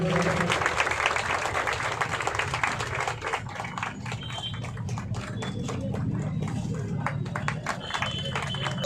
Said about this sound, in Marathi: टाळ्या झाल्या पाहिजे मित्रांनो